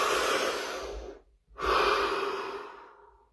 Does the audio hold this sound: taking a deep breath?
yes